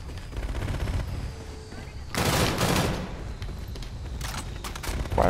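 Gunfire in the video game Call of Duty: Infinite Warfare, with a rapid automatic burst followed by a loud volley and a few more sharp shots over a rumbling battlefield background.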